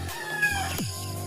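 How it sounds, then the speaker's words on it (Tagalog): Chickens on a morning farm yard, a short clucking burst followed by a rooster's crow, close and clear with no talk over it. "Mga manok."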